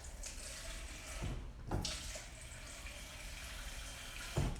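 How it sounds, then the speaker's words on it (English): Water pours steadily into a bowl of ice for an ice bath, a soft continuous splashing and trickling with a few brief knocks, quiet and close. "You're gonna grab some ice and put it in here, and then add some water."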